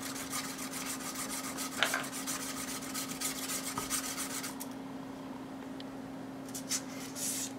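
Sandpaper strip rubbed by hand against a small airsoft AEG hop-up part, a close, steady scratchy rasping in quick strokes that pauses briefly and resumes, over a faint constant electrical hum.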